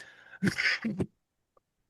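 A short, harsh cough bursts out close to the mic, a couple of rough hacking pulses, then near silence.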